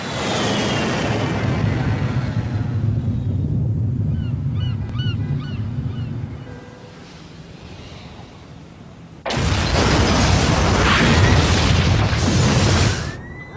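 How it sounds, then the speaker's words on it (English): A dramatized underground explosion at the World Trade Center in New York City: a low rumbling drone gives way to a sudden, loud, roaring broadband blast that holds for several seconds before cutting off. "The World Trade Center in New York City was rocked this afternoon today by a tremendous underground explosion."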